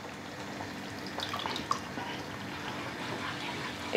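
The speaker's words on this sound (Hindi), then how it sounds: "फ्लेम को लो रखते हुए ये क्रीमी मिक्सचर जो हम तैयार किए हैं वो डालेंगे।" A creamy milk mixture poured into a pan over a low flame for malai seekh kabab biryani, heard as a faint, steady liquid trickle with a few soft splashes and a small clink near the end.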